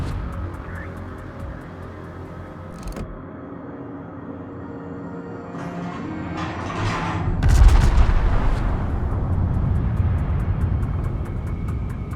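Naval guns of the battleship Satsuma fire in a video game: a sharp report, then a heavy booming salvo with a long rolling rumble over a steady low ship hum.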